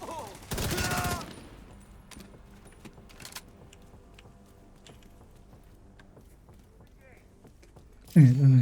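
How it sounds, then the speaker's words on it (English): A short burst of rapid gunfire in a video game, loud and near for about half a second, followed by quieter scattered clicks and a heavy thud at the end. "I'm gonna shoot at those guys."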